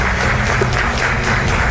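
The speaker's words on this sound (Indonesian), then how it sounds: "kita berikan tepuk tangan" Studio audience applause on an Indonesian TV talk show, a short burst of dense, steady clapping filling the room at close range.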